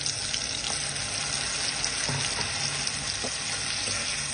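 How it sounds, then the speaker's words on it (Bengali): Ground poppy seed paste with salt, turmeric and onion sizzling steadily in a hot pan, a continuous close frying hiss with occasional stirring scrapes. "এটা একটু ভাজা হবে"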